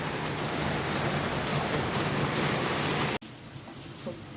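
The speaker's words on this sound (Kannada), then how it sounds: "ಮಳೆ ಬರ್ತಾ ಇದೆ." Heavy rain pours steadily outdoors with a dense, loud hiss, then cuts off abruptly, leaving quieter background with a few faint knocks.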